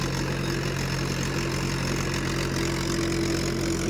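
Mahindra 575 DI tractor engine running steadily with a rotavator attached, a continuous low diesel drone with an even hum, close and unbroken for the whole stretch with no talk.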